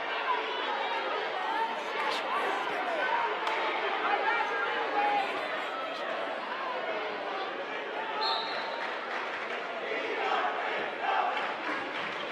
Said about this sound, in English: York High 17, Central 11 in a rather raucous crowd here tonight at Central York.